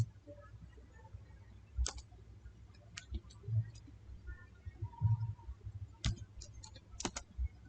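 A computer mouse on a Windows PC gives a few faint, sparse clicks scattered across quiet room noise.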